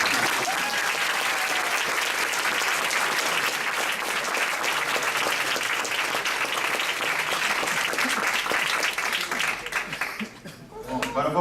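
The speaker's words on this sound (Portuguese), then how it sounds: "Outra salva de palmas, Pedrão." An audience gives another round of applause at a talk, sustained dense clapping holding steady for several seconds before thinning out and fading, with light chuckling mixed in.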